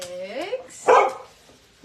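A dog joining an indoor squat workout gives one loud, close bark after a few whiny, yelping sounds, with a person's voice heard briefly alongside.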